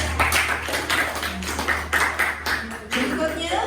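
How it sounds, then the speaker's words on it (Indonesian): Students in a classroom clap for a group that has just presented, with several uneven bursts of hand claps and faint background voices. "Tepuk tangan untuk kelompok 2."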